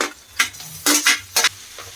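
Tomato frying with ginger garlic paste for a chicken gravy, heard as several short bursts of spatula stirring and scraping in a pan over a faint sizzle, close and without talk.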